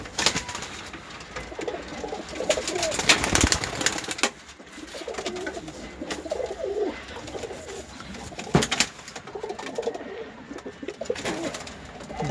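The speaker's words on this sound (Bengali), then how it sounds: "সবই ওমান বেলার লাইন। দেখে নাও পায়রাগুলো ভালো করে।" Oman pigeons coo in soft repeated throaty phrases, close and fairly loud, with rustling and a few sharp knocks between calls and no voices.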